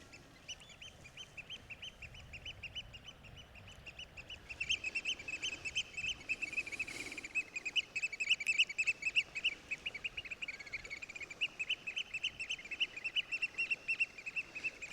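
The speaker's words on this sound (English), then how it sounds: "Just listen to the birds here." Ducks and geese call repeatedly in the distance by St Cwyfan's Church as the tide comes in, a busy chorus of honks and quacks that grows livelier partway through, with no talking.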